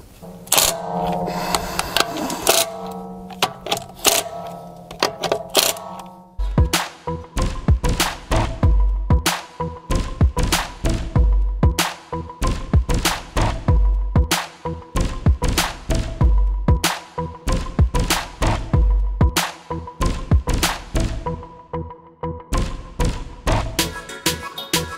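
A 12 volt cordless impact wrench tightening wheel bolts in a crosswise pattern during a tire change, hammering in loud rapid bursts separated by brief pauses, close and clear with no speech.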